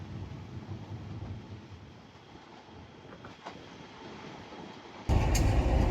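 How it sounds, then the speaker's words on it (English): A freight train rolls past platform 3 at Broadmeadow station in Newcastle, giving a steady rumble with a low roar and some wind buffeting, then a sudden louder burst of rushing noise near the end. "we have a freight train passing platform 3 at Broadmeadows train station"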